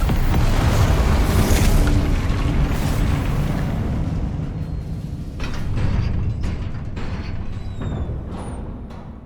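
A heavy magical spell blast from the video game Hogwarts Legacy booms with a deep rumbling burst, then fades into crackling impacts and metallic ringing debris, loud at first and tapering off.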